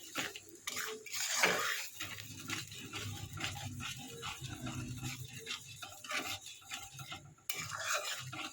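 A spice masala for bhola fish is stirred and sautéed in a pan, with no chilli powder added, giving a steady scraping and clattering of a utensil against the pan with faint sizzling underneath, fairly quiet and without talk.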